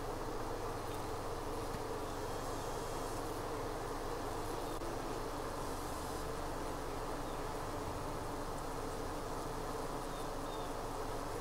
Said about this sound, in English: that's why they're fanning their wings so much